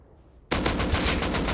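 Automatic gunfire in the online survival game Rust, a loud rapid burst of shots starting abruptly after a short quiet moment and rattling on evenly to the end.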